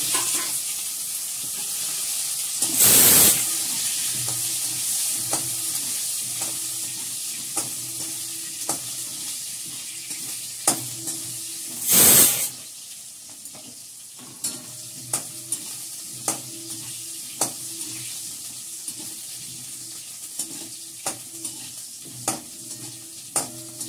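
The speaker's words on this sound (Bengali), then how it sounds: "প্রথমে আমি আলুটাকে ভেজে নিচ্ছি, হালকা করে ভেজে নেব।" Potatoes fry lightly with asafoetida in a pan, giving a steady soft sizzle with intermittent scraping stirs and two short, loud hissing bursts.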